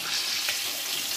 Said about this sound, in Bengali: হালকা করে ভেজে নিচ্ছি